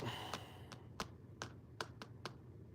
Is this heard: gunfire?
no